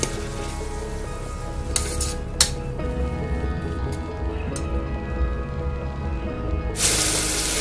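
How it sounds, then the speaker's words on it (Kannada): Foxtail millet bisi bele bath with tomatoes being stirred in a pan: steady sizzling and frying with soft squishing and occasional clinks of a spoon against the pan, close and continuous. "ಟೊಮೊಟೊ ಹಾಕೋಣ. ಈಗ ನೀಟಾಗಿ ಮಿಕ್ಸ್ ಮಾಡ್ಕೊಳ್ಳುವ."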